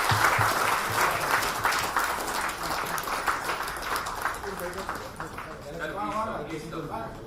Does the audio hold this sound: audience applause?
yes